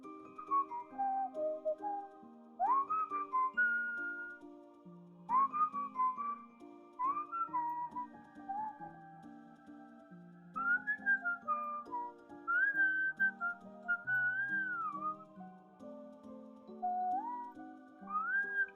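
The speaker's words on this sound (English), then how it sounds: "I can just start whistling if I hear something that I want to replicate as well with my mouth noises" A person whistles a lively, wandering melody with quick pitch slides and trills, steady and close, with no talk over it.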